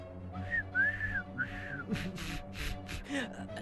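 A few short whistles with rising and falling pitch, close by, followed by breathy puffs and sharp exhalations.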